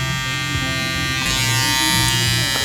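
Electric hair clippers cutting a taper fade, a steady close buzz that glides lightly over the hair with slight shifts in tone as the blades move.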